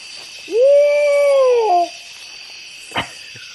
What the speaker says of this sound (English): after watching and hearing an owl call and them saying it's Bigfoot